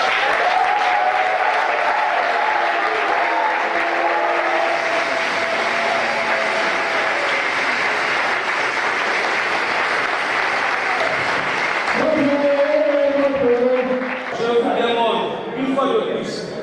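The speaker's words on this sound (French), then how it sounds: "je voudrais que du fond de cette salle, dédiée à son nom, retentissent des applaudissements nourris et prolongés." A packed assembly hall at a political party youth general assembly fills with sustained, thick applause. The applause holds steady for a long stretch, then thins as voices and tonal sounds rise near the end.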